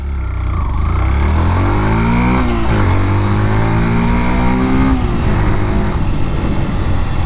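Yamaha FZS Hybrid motorcycle accelerating on a test ride, its engine note climbing steadily through the revs, dipping at a gear change and rising again, loud and close with wind noise, no talk.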